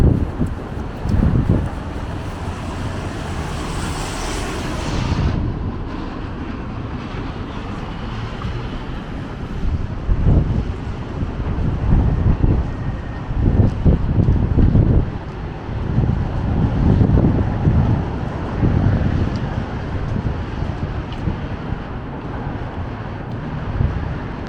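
Heavy wind buffeting the microphone on a Toronto street in Yorkville in January, a continuous low roar with repeated gusty thumps throughout, loud and close, no talking.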